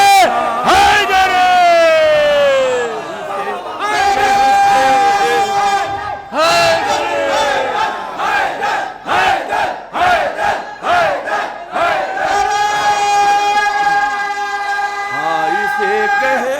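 A large crowd at a 13 Rajab religious gathering in Pakri Khas roars the slogan "Haidar" in loud, sustained chanted shouts, with repeated surging cries that overlap and fill the space throughout.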